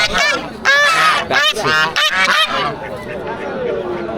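Ducks and geese at a rural village market let out loud, close honks in quick repeated bursts, then fade into quieter background crowd noise.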